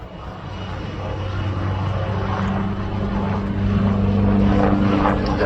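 A helicopter at the Farnborough Airshow performs a torque pedal turn, its engine and rotor giving a broad, steady roar that swells gradually.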